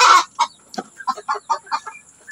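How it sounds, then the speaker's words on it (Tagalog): Brooding hens in a neighboring breeding pen give a quick series of close, clear clucks, starting with one louder squawk and then short rhythmic calls in a quiet setting. "maingay lang yung manok sa kabilang breeding pen kasi naglilimlim"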